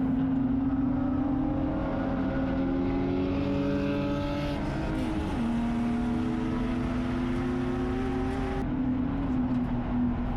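Race cars, a Porsche GT3 and a BMW E36 among them, accelerate hard at Willow Springs during an endurance race, a loud steady engine drone with rising and falling harmonic pitch as gears climb, close and continuous throughout.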